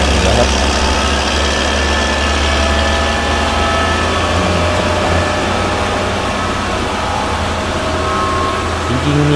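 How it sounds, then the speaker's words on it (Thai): A Caterpillar 320D2 excavator at a road construction site runs with a loud, continuous diesel drone and steady rumbling vibration, close by throughout. "ตัวแคทที่เป็นรถขุดครับ 320D2ครับ ทำงานอยู่นู่น"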